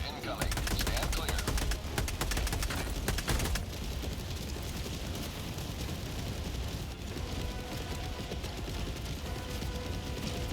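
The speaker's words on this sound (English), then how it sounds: "Orbital barrage incoming. Stand clear." Orbital barrage in Helldivers 2 with a dense fusillade of rapid, repeated blasts and mechanical clatter, loud and continuous, the sharp bursts thick at first and then merging into a sustained rumbling roar.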